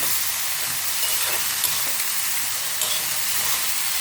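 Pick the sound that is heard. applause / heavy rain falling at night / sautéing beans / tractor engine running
sautéing beans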